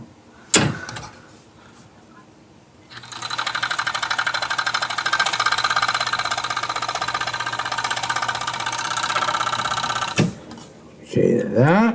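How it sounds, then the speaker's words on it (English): A serger stitches the inside edges of fabric pieces in one steady whir lasting several seconds, loud and close, with clicks before it starts and after it stops. "So right now we're only serging the inside of each of the component parts"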